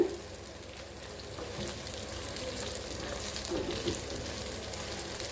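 Paneer cubes frying in hot oil give a steady, dense sizzle that crackles continuously at close range, swelling slightly toward the end with no voices.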